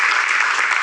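Studio audience on a TV game show breaking into a brief burst of dense, loud clapping.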